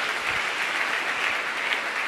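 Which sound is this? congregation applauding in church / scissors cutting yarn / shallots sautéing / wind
congregation applauding in church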